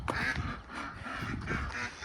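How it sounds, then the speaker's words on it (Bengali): Domestic ducks quack at a farm in a Saudi Arabian village. Repeated nasal quacks come in short bursts at a moderate distance and fairly low volume over light background noise. "দেশি হাঁস, দেশি মুরগি।"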